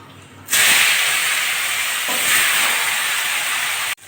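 Salted, turmeric-coated bitter gourd pieces drop into hot oil spiced with radhuni, bursting into a sudden loud hiss that holds steady, swells once, then cuts off.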